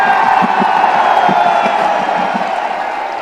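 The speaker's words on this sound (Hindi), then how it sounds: "अभी भैया मूड नहीं बना, ताली मत बजाओ।" Large outdoor political rally crowd in Paratwada, Amravati, roaring and whooping with scattered clapping, a dense sustained wall of cheering close and loud, easing slightly toward the end.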